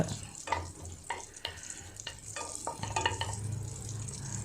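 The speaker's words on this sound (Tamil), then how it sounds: "பூண்டு போட்டு லைட்டாக மிக்ஸ் பண்ணி விடுங்க." Chopped garlic sizzles in melted butter in a pan for a vegetable soup, with soft frying hiss and repeated scraping stirs from a spoon, close and fairly quiet.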